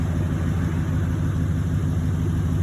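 Exhaust of a 2020 Chevrolet Silverado 3500HD Z71 regular cab long box work truck, a steady deep idling rumble heard close up and continuous with no talk.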